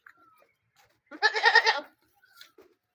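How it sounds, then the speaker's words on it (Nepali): Goats in a garden of a new settlement in Darma rural municipality, ward 1, give one clear, fairly close bleat lasting under a second amid otherwise quiet surroundings, with a few faint chirps. "हाम्रा बाख्राहरू"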